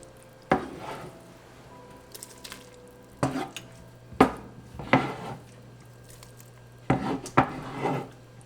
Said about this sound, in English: you can start chopping your onion and your cilantro